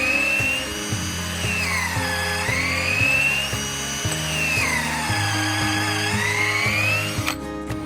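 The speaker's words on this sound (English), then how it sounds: "How deep do you drill?" A power drill whines steadily, its pitch sweeping down and back up twice as it bores a tap hole into a maple tree, loud and close, ending abruptly.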